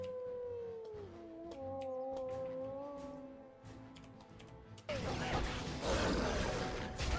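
Dogs howl in the fantasy role-playing video game Dragon Age: Origins during a fight, long wavering wails that fall away at about five seconds into a loud burst of combat noise.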